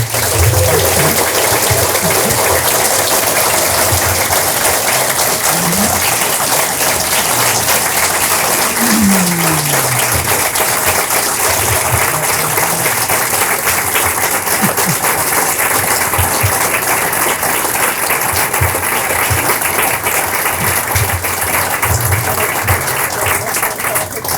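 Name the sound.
audience applause for the Mitchell farm family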